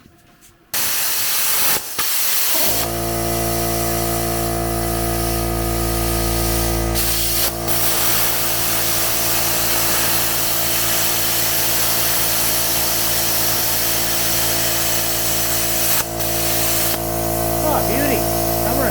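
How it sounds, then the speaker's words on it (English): Plasma cutter slicing through quarter-inch-thick aluminum plate during an Arctic Cat repair, a steady loud hiss with a constant electrical hum running nearly unbroken for the whole stretch after a brief start. "I'm going to cut this thick aluminum plate, it's 1/4 inch"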